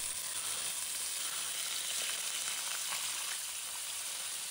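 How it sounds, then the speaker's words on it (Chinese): Marinated red eel fish frying in hot oil in a wok over high heat, a dense, continuous loud sizzle and crackle with no talking. "随着油温升高，油面开始烧热了，把腌制好的红鳝鱼放入锅中。"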